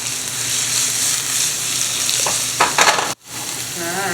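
Onion, bell peppers and garlic sautéing gently on low heat in a pan, a steady close sizzle with a few brief utensil scrapes and stirs, then a sudden short drop and a quick recovery.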